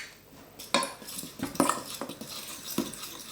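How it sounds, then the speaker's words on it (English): A spoon scrapes and knocks against a bowl as flour is stirred into smooth mashed potatoes for tattie scones, giving a few distinct clinks and scuffs over quiet background. "And now we need to stir in some flour."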